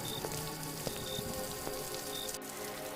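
Steady rain pours at night in an animated story, a dense continuous patter and hiss with scattered drips, even and unbroken for the whole stretch with no talking.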